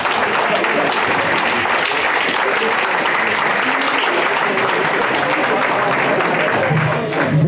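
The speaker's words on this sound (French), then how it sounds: "Veuillez m'applaudir, s'il vous plaît." Continuous loud applause fills a political party investiture ceremony in Paris, a dense steady wash of many hands clapping without pause, with faint crowd voices mixed in.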